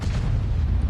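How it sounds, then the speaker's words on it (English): An HE shell strikes a tank and knocks off its track in the video game World of Tanks: a deep, loud, sustained boom rumbles throughout with a dense low roar and no voices. "T-28 prototype just shot me with an HE shell and took off my track"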